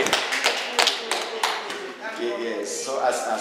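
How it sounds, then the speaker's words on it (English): Audience at a functional literacy gathering for Mbororo/Fulani teen mothers in Cameroon clapping in scattered, uneven bursts, close and fairly loud, with people talking over and between the claps. "Clap now."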